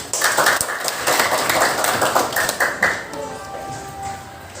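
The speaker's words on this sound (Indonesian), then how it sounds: "Oke, tepuk tangan dulu." Children in a school classroom clap their hands together in a brisk, loud burst of uneven claps that thins out over a few seconds, leaving faint room tone with a soft tonal hum at the end.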